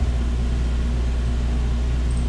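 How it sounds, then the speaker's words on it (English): A steady, low mechanical hum with a constant droning rumble, unchanging throughout, from an indoor air conditioner running nearby. "we have the air conditioning running, so we're not frying"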